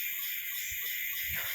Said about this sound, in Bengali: ঝিঝি পোকা, নানা রকমের পোকার শব্দ শুনতে শুনতে জঙ্গলের রাস্তায় হেঁটে যেতে হবে।